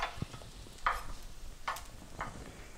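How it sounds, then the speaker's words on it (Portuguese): Food sautés quietly in a frying pan, a soft background sizzle broken by four evenly spaced stirring scrapes. "Dá uma salteada, uma mexida na nossa frigideira"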